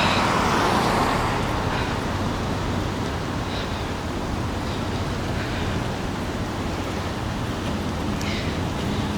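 Busy roadway beside Reversing Falls, with a dense, steady roar of passing cars and traffic heard up close and loud, rushing broadband noise that barely changes and has no clear gaps between vehicles.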